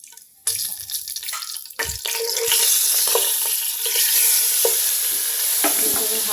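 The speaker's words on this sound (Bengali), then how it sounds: "এখন আমি এখানে ডিমগুলো ভেজে নেব।" Eggs for egg biryani, seasoned with salt and zarda food colouring, frying in hot oil, giving a loud steady sizzle that begins abruptly after a quiet start, with occasional stirring clinks.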